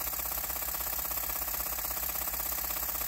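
A twin-cylinder horizontal mill-type steam/air engine with a flyball governor running steadily, an even rapid chuffing and mechanical rattle throughout, no voices.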